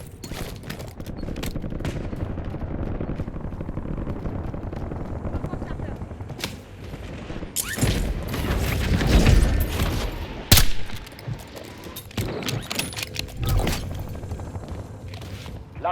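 Gunfire in a shooter video game, with steady rattling bursts of shots and a few heavier booms, loud and continuous throughout, and game voices talking over it.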